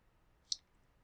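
A single crisp computer mouse click, quiet and close, stands alone in near silence.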